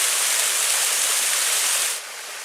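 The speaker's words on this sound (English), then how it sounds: "there's actually a second waterfall over there, a small one" A small second waterfall pours over a ledge at Pictured Rocks, Michigan, in November, giving a steady, close, full hiss of rushing water that drops slightly in loudness near the end, with no voices.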